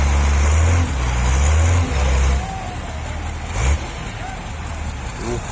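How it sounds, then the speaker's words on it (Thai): Heavy construction machinery at a bridge-widening site, where an excavator and a 55-ton crane handle massive concrete beams, revs its engine. The rumble is loud and close, surging in low pulses over the first two seconds, then settling to a steady drone. "เร่งเครื่องนะครับ"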